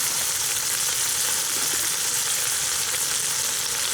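Food sautéing in a Ninja Foodi multicooker pot, a dense continuous sizzle and crackle, loud and close, with no voices over it.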